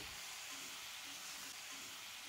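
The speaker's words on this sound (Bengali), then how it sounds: "কেটে রাখা শিম, বেগুন। সব কিছু একসাথে ভেজে নেব 3 থেকে 4 মিনিট" Cut broad beans and eggplant fry together in a hot pan, a steady close sizzle and hiss running without pause, with faint stirring scrapes underneath.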